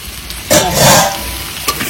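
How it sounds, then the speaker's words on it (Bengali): Turmeric-dusted potatoes fry in a pan outdoors for biryani, a soft hiss underneath a sudden louder burst of stirring and scraping midway, then a single clack. "এবার আলুগুলো দেখি কতটা ভাজা হয়েছে।"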